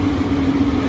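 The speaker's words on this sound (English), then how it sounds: "Look at the fan just started running." Restaurant exhaust fan starting to run, a steady close mechanical hum with a constant tone and even loudness throughout, no voices present.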